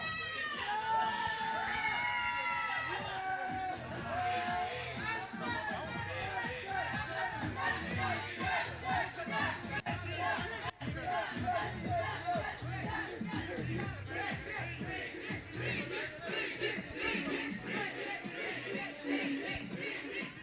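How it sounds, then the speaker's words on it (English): Dense crowd noise at a mixed martial arts national championship, a continuous loud roar of cheering, shouting and applause that holds steady for the whole stretch with no pause. "a round of applause for Team"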